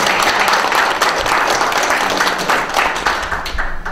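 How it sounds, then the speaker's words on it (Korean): An audience at a public legislative hearing on a human rights bill gives a round of applause, broad sustained clapping at fairly close range that fades slightly toward the end. "박수 한번 보내드리겠습니다."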